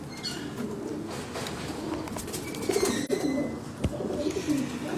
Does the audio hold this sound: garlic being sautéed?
no